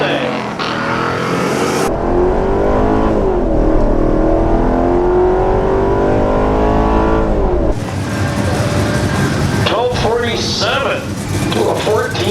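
A modified Mercedes E55 AMG launches hard down a quarter-mile drag strip, its engine roaring loud and close and climbing through gears with clear shift breaks, then another loud burst near the end.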